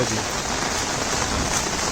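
A heavy Konkan monsoon shower hammers down in a thick, constant roar of drops on surfaces nearby, loud and even throughout, with no speech over it.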